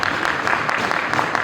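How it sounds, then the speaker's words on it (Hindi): Audience at a Parinam Healthcare celebration event in Kawardha applauding, a dense steady patter of many hands clapping throughout the short stretch. "तो मैं उन दोनों के लिए जोरदार ताली"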